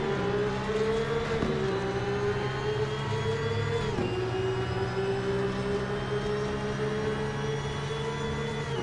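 A Porsche Cup race car laps Spa in Assetto Corsa, its engine a loud, sustained racing roar that climbs steadily through the revs, with two brief dips at gear shifts.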